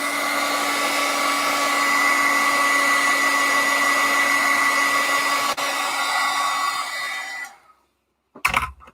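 A hair dryer blows steadily and loudly over a watercolor painting for about seven seconds, then cuts off abruptly, leaving near silence before a brief handling noise at the end.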